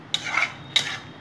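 A spoon scrapes and stirs poppy seed paste, ground with green chillies, in a pan while cooking ridge gourd. Three separate scraping strokes come close and fairly crisp, with short quiet gaps between them.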